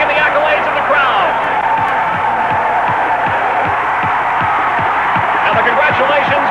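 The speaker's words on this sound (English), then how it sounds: "listen to this crowd cheer him on" A grandstand crowd at an ATC three-wheeler off-road race at Riverside cheers, claps and whoops continuously, a dense, loud wash of noise with scattered sharp claps throughout.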